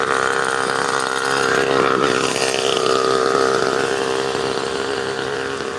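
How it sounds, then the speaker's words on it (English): A loud, raspy motor scooter engine drones steadily close by as it passes, swelling slightly as it nears and then easing off a little. "here comes another scooter."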